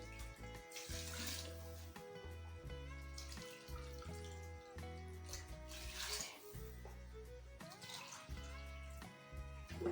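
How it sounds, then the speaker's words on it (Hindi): Water is poured from a glass into a pot of chicken pulao rice, a faint steady splashing stream running under soft background music with no speech. "पानी हमने इसमें ऐड कर लिया"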